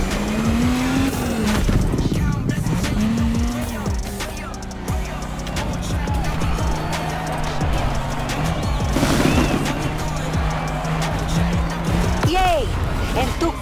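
Lowrider and donk cars race in The Crew Motorfest, engines revving and shifting with rising and falling pitch, tires squealing and a crash-like impact, loud and continuous under music-like tones and occasional voices.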